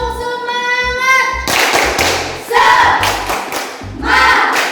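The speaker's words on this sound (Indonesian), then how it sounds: "Tepuk semangat." A group performs an Indonesian "tepuk semangat" clapping chant, sharp claps in short bursts alternating with voices chanting "semangat".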